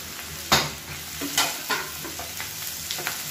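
Fennel seeds and curry leaves splutter in hot coconut oil for an egg kola urundai kuzhambu, a steady close sizzle broken by several sharp pops and crackles, with no talking.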